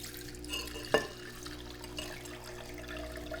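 Tangelo-infused liquid for homemade tangelocello being drained, a steady watery trickle and splash with one sharper clunk near the start, close by and moderately quiet, no talking.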